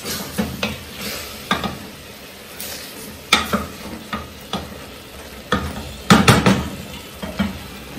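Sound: stirring chicken stroganoff in a pan to loosen the crust

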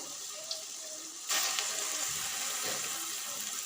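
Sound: lentil vada batter frying in hot oil

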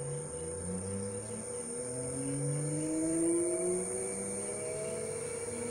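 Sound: 3 phase lathe motor running on VFD inverter

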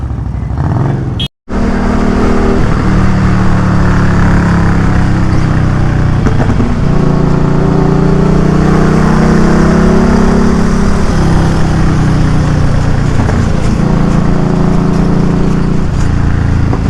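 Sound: Harley-Davidson Street Rod 750 engine with aftermarket exhaust

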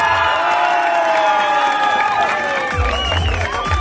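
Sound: crowd applauding and cheering for the festival queen

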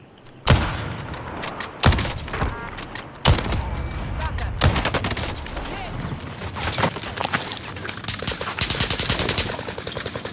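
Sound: Kar98 sniper rifle gunfire in a video game

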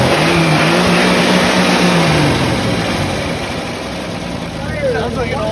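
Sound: old Ford diesel engine running

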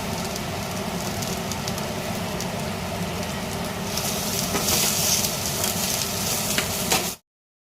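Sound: onion frying with fried potato in a pan for Spanish omelette

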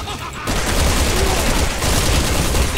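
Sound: gunfire from Resident Evil 6 video game

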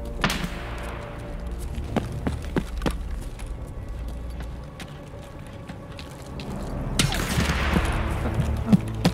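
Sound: gunshots in Escape From Tarkov video game

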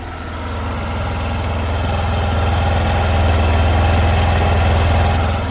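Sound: Suzuki Burgman scooter engine revving fast at idle

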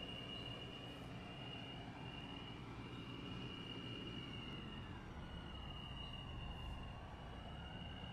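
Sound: subway train running in Roblox video game

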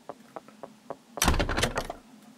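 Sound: door in video game Pocket Mirror

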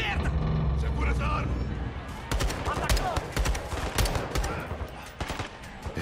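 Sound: gunfire in video game Call of Duty Modern Warfare 2

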